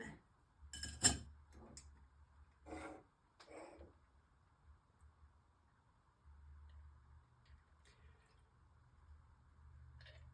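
A spoon clinks against a glass while stirring a drink, a few quiet sharp taps and scrapes near the start followed by faint low background hum, close and soft.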